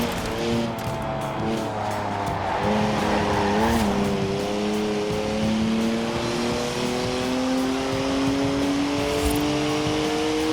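A video game car with a 3-litre twin-turbo straight six in Forza Horizon 4 drives hard, engine droning and rising steadily through the gears with tire squeal and skidding over it, loud and continuous.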